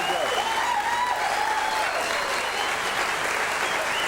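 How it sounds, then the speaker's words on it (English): Steady, full studio-audience applause welcoming the panel of a televised Australian football show in grand final week, continuous and even throughout, with a faint voice or cheer riding over it early on. "A warm round of applause, please, for Doug Hawkins, Brad Johnson and Todd Viney."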